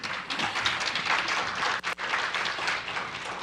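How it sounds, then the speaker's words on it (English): Applause from a conference audience interrupts a talk, with dense, steady clapping that fills the room, briefly dips for a moment, then carries on at full strength with no voices heard. "this is one of the few occasions in my life when I was interrupted by clapping in my talks"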